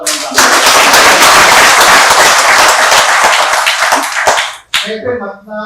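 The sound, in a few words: audience applauding at a Karnataka public rally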